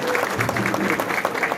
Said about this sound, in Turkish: Güzel bir alkış istiyoruz.